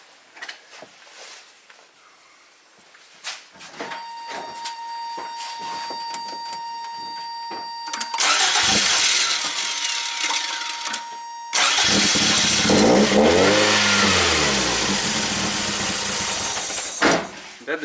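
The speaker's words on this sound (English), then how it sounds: "as soon as the car starts, I'm going to connect the jumper" A 1987 Toyota MR2 engine that stalls when hot cranks and catches, then idles and revs loudly with a rough roar, preceded by clicks and a steady electronic tone.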